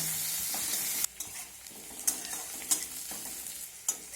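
Onion with a little salt frying in a pan until reddish, sizzle under repeated sharp scrapes of a spoon stirring, close and fairly quiet, no voices.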